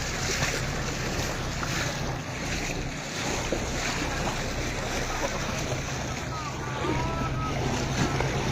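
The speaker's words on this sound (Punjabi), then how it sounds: "ਪਾਣੀ ਦਾ ਲਗਾਤਾਰ ਵਹਾਅ ਬਹੁਤ ਤੇਜ਼ ਹੁੰਦਾ ਹੋਇਆ ਵਧਦਾ ਹੋਇਆ" Fast, rising floodwater surges through a village near a school hostel in Gurdaspur, making a continuous loud rushing roar with wind buffeting the microphone throughout.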